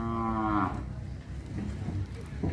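A single drawn-out moo from cattle at a border-area cattle market in Sylhet, clear and fairly near, followed by low market noise.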